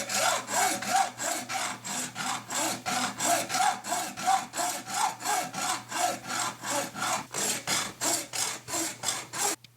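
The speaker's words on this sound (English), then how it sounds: "begin sawing with a hacksaw" A hacksaw cutting through PVC pipe in steady back-and-forth strokes, about two per second, each a bright rasping scrape. Close, continuous and even in rhythm, with a low hum underneath and no talk.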